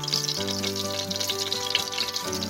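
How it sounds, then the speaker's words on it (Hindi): Water poured into a cooking pot while making zarda, a steady splashing pour with a bright hiss over low humming tones that shift in pitch midway, with no voice present. "अब मैं इसके अंदर थोड़ा सा पानी ऐड करूँगी"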